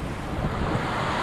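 Ocean waves and swells rolling onto a wild Pacific Northwest coastline near Cape Alava, a loud continuous rushing roar close by, mixed with wind buffeting the microphone.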